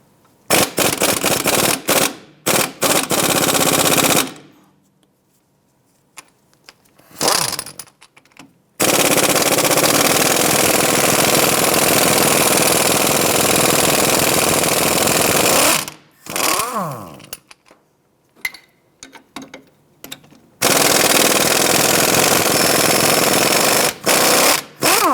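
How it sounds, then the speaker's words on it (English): Loud bursts of a pneumatic impact tool hammering at the strut bolts on a Ford Escape front hub, several long rattling runs at close range separated by short pauses. "Let's go ahead and remove the two strut bolts right here."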